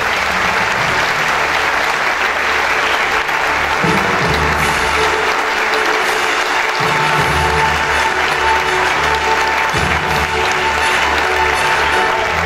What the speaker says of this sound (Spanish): Y nuestro aplauso, por supuesto, y éxitos en el resto de tu carrera.